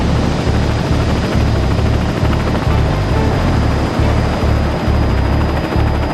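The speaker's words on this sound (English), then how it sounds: "the chopper is running low on fuel" A rescue helicopter flies over rough sea, its rotor chop loud and continuous, steady rhythmic thudding under a broad roar of engine and wind.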